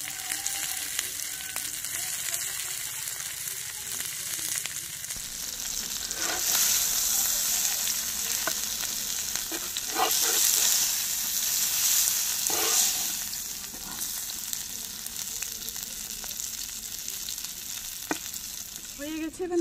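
Mrigal fish paturi fries slowly on low heat outdoors in a garden, a soft, steady sizzle that swells a little in the middle, with occasional light clicks and taps of a utensil.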